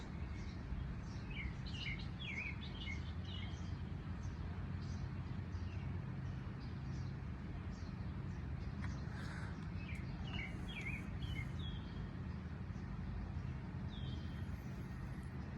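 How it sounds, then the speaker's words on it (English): Birds chirp and sing in scattered high calls over a steady, loud background rumble of outdoor noise. "Love to sing with the birds."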